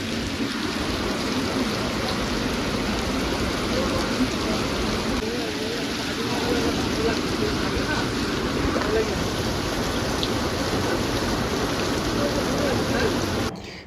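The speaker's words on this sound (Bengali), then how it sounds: "এখন যা জোরে বৃষ্টি শুরু হয়ে গেল" Heavy rain pours without a break, a dense, loud wash of drops hitting surfaces close by, with faint voices now and then beneath it.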